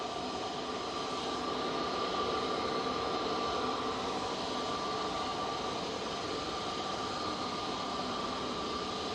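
An Aer Lingus Airbus A330 with CF6 engines roars in reverse thrust on landing at Manchester Airport in windy storm weather, a sustained, even, distant rumbling hiss with no talk.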